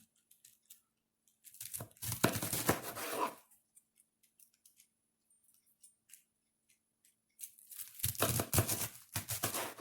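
Cabbage being cut into pieces for kimchi: two close bursts of crisp crunching and slicing separated by a quiet pause, with no talk.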